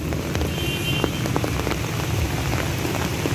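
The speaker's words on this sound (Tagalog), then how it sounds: "Biglang ulan ito guys, napakalakas." A sudden heavy downpour falls on Congress Road near a school, a loud, unbroken rush of rain hammering surfaces, with scattered drips and splashes and faint traffic underneath.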